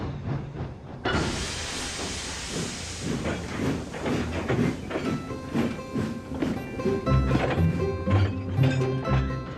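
A steam engine pulling a slow goods train chugs along with a burst of hissing steam, rhythmic puffs and rail clatter continuing steadily throughout.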